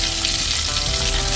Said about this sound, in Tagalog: Ngayon po magprito naman tayo ng tilapia.